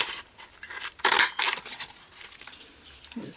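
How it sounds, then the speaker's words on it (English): Craft paper punch cutting flower shapes from paper: a couple of sharp, crisp crunching snaps close by, separated by quiet rustling and faint handling noise, with no speech. "And I bought these new punches to make flowers."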